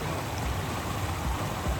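Shallow stream water runs over a ford on the Te Araroa trail in forest country, a steady close wash and babble with no voices.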